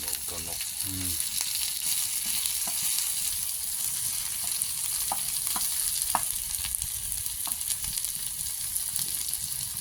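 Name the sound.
termites pan-frying in a tawa pan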